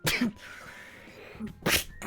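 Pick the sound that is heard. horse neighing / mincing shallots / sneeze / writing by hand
sneeze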